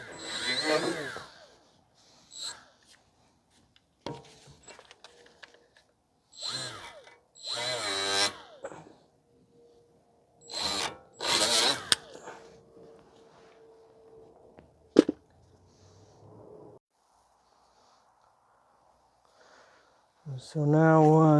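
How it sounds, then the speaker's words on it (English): A die grinder scrubs rust off the brake bracket of a 2016 Ford F-150 in short, loud whirring bursts with gaps between them, while someone talks in the pauses. "if you guys don't have a die grinder like this of some sort, you can just use a cheap wire brush and to clean the rust off like this"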